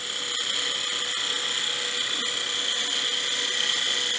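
A wood lathe spinning at 2,000 RPM while a turning tool takes peeling cuts on a box blank, giving a steady high whine with a faint rhythmic scraping throughout, loud and continuous with no talk.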